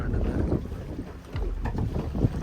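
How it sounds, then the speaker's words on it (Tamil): Strong wind gusting at sea around a small boat, with broad rushing noise, low buffeting rumble on the microphone and faint water movement, steady and close throughout. "காற்று பலமாகவே இருக்குது"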